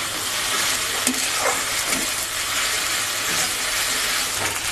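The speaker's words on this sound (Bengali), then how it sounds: "আদা রসুন কিছুটা ভাজা হয়ে আসলে পরপর অন্যান্য মশলাগুলো দিয়ে দেব।" Ginger and garlic paste fry in hot oil in a pan for a Bengali chital fish curry, a loud, continuous close-up sizzle and hiss with a few soft scraping stirs.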